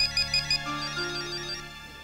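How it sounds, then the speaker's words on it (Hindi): An incoming call sets off a phone ringtone, a bright repeating melodic pattern of short pulses that moves into a sustained tune, close and clear with no voices. "निकिता कब से तुम्हारा फोन ट्राई कर रहा हूँ मैं"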